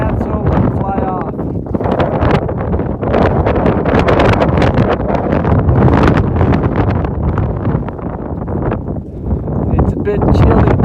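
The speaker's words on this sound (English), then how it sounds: "It's really windy today." Strong wind blasts steadily across the microphone on the open summit of Mount Washington along the Appalachian Trail, a loud, continuous roar and buffeting with no pauses.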